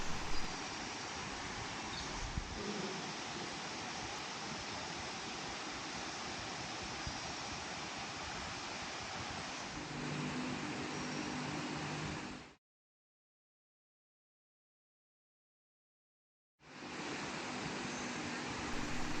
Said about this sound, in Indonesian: Lumayan terdengar suara air terjun ke kafling ini.